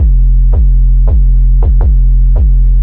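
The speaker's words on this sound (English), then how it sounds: "Main 808 sounds like." Deep, booming 808 bass notes hit in a loose rhythm, each with a sharp click at the onset and a sustained low hum between hits.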